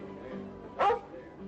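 A single short dog bark sounds once midway, fairly close, over a low room hum, in a 1951 drama film scene.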